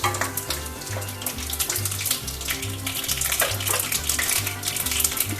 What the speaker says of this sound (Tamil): ஏன்னா மோர் மிளகா நல்லா கருப்பாக வறுபடணும்.